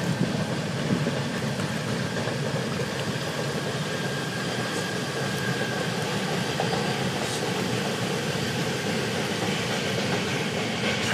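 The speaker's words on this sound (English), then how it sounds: "there's a train coming" A train hauled by two BNSF locomotives crosses the Quincy trestle, giving a steady, broad rumble with engine drone that holds for the whole stretch, heard from a distance with no talk.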